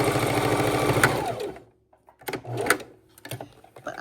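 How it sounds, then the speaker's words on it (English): A sewing machine stitching fabric scrunchies runs fast and steady, stops, then starts again in short bursts with small mechanical clicks between. "we're just going to pop it right back under the sewing machine."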